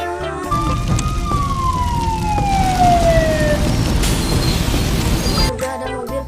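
A fire truck's loud siren wails with a long descending tone over a steady rumble of traffic, near and continuous throughout.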